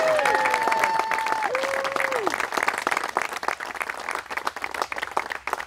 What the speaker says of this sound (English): let's hear another round of applause for him.